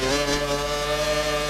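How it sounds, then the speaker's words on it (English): A Formula 1 car engine in the F1 2012 racing video game drones with a steady, harmonically rich buzzing tone that holds at a constant pitch and volume throughout, heard loud and close with no talking. "The sound of an engine coming to a halt"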